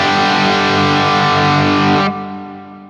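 Electric guitar played through an amp modeller with heavy reverb, a sustained distorted chord ringing out loud, then cut off abruptly so a long reverb tail decays afterward.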